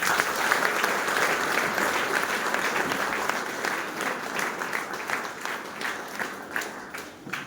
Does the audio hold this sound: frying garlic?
no